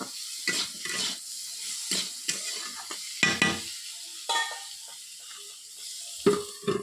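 A spoon scrapes and stirs salted food around a cooking pan in repeated close, rough strokes over a steady background sizzle, with no talking.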